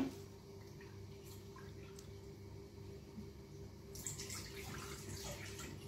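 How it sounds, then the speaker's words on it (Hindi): Water is poured into a cooking pot, four cups in all, at a village home in Sharjah: a steady, quiet splashing and trickling that runs throughout and swells louder near the end. "पानी डाल दिया है, 4 कप मैंने डाले हैं।"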